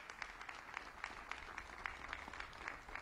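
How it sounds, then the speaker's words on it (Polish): Faint applause from guests at a harvest festival ceremony at the Presidential Palace, with distinct, fairly regular claps standing out over a low hum, as if a small group is clapping in a large room. "Wielkie brawa i gratulacje."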